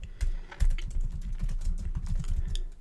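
Quick, continuous typing on a computer keyboard, close and fairly quiet, a dense patter of key clicks with no pauses and no voices.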